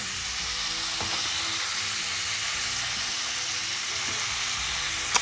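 Small coconut pieces fry in crab gravy masala, making a constant bright, hissing sizzle with occasional soft stirring taps, close and steady, with no one speaking.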